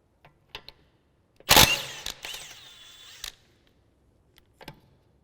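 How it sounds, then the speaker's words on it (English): A wrench cracks loose a car wheel nut, a burst of sharp metallic creaking and ratcheting up close. A few faint clicks and taps come before and after it, with no talking. "We're going to start by undoing the one opposite, just in case it is over tightened."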